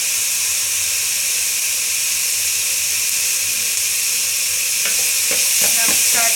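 Palak chicken masala with spinach sizzles loudly and steadily in a pan over a flame, a continuous hissing fry with a few spoon scrapes and clatters near the end, close up and without voices.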